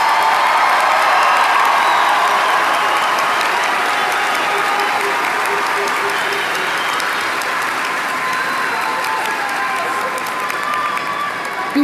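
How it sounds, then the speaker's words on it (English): Sustained applause for new graduates from a large crowd at a Towson University commencement fills a big hall, steady and dense throughout, with scattered cheers mixed in. "Can we have one more round of applause for our new graduates?"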